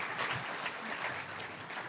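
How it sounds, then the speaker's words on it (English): Audience applause at an awards ceremony, a steady dense patter of clapping hands from a crowd, sustained throughout. "So if we can give Michelle another round of applause."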